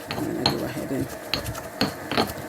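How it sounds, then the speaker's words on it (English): Frozen parsley and coriander crushed by hand, a run of crisp crunching and crackling bursts at an uneven rhythm, close and fairly loud, mixed with light clinks of a bowl or utensil. "You want to go ahead and crush them nicely."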